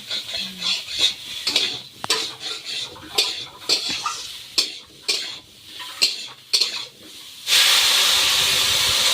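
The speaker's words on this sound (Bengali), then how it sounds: "এবার কিন্তু জল ঢেলে দেবো তো রান্না হয়ে যায়" Stirring and scraping clinks in a curry pan for rupchanda fish with taro, then a sudden loud, steady steam hiss as water is poured into the hot pan and keeps sizzling to the end.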